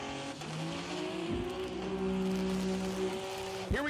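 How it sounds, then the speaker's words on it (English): A Pro Street drag race car, number 25, does a burnout at the starting line of the GTR World Cup 2022, its engine holding a loud, sustained roar with tire noise throughout. "the burnout of car 25 perfectly illustrates why we need to keep the starting line clear"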